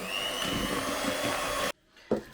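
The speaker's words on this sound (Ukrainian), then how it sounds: "вімкнемо на першу швидкість міксер та обережно ще раз перемішаємо до однорідності" An electric hand mixer whirs on its first speed through cake batter, a steady, close motor drone that stops abruptly, followed by a brief bump of the beaters.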